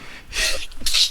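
One sharp human sneeze, a quick intake followed by a loud burst, close and brief, with a second small breathy puff at the end.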